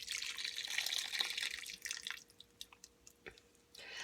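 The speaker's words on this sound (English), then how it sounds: "I'm just going to add the broth from the beans" Green bean broth pours and trickles into a crock pot, a close liquid splash that fades into scattered drips.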